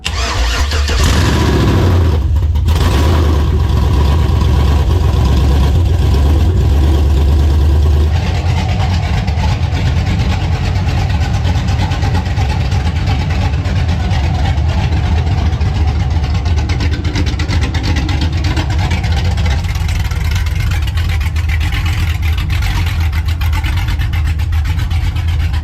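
A car engine fitted with open Speed Engineering headers and a BTR cam is cranked and fires up, then runs loud and close with a choppy, rumbling idle and occasional revs.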